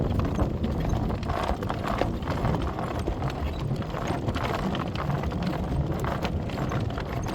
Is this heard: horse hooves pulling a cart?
yes